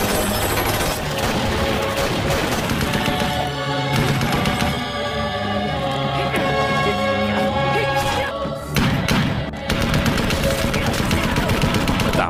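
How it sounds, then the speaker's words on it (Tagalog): Loud rapid gunfire bursts through a film action shootout, dense automatic volleys with thuds and impacts continuing nearly throughout. "Pagkatapos ay maririnig ang malakas na putukan ng baril"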